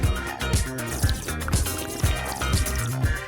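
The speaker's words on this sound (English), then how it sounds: "Soda time, way better than bitter tea." Soda pouring into a glass in a cartoon scene, rhythmic gurgling glugs repeating about every half second, with bubbly liquid sloshing and fizzing throughout.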